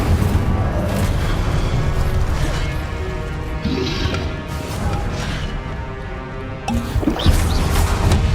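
Repeated Confringo fire-blast spells in Hogwarts Legacy: dense booming crashes and bursts layered over continuous game music and effects, loud throughout with a fresh impact near the end.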